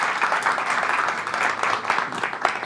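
An audience applauds steadily at a live show, a dense wash of clapping that holds at an even level throughout.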